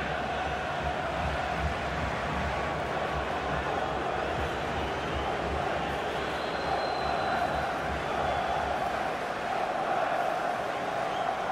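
A stadium crowd gives a sustained ovation of applause and cheering throughout a FIFA 16 football match between Mexico and Germany, a steady dense roar with no break.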